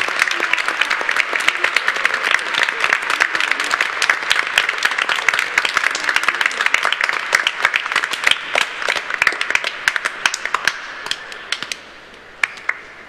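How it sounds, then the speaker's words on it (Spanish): A congregation at a Catholic Mass applauds new members of a boys' choir school, a dense, steady wash of many hands clapping for about ten seconds before thinning to a few scattered claps and fading out. "Citamos ahora con un caluroso aplauso a estos nuevos integrantes del Colegio de Infantes de Santa María de Guadalupe."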